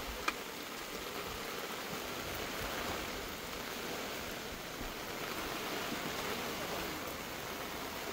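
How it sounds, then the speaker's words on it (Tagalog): Heavy rain pours down on an overlanding 4x4 campsite during Typhoon Crising, a dense, steady hiss that holds unbroken the whole time with no voices. "Hindi ba titigil ang ulan?"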